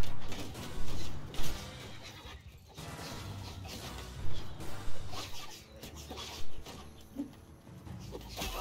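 Unarmored horses in a Mount & Blade 2: Bannerlord battle, with repeated loud neighs and whinnies rising over dense clashing combat noise, several close calls spread through the fight.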